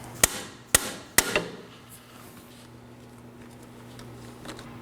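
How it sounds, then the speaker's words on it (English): Three sharp metallic hammer strikes on a pry bar knocking off a steering rack bellows clip on a Chevrolet Equinox ring out in quick succession, then a quiet hum remains with faint rattling afterward. "I'm using a pry bar and hammer to remove this."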